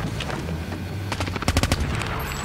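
A Cordet gun in a mobile shooter video game fires a quick burst of rapid, sharp shots near the middle, loud and close, over low background game noise.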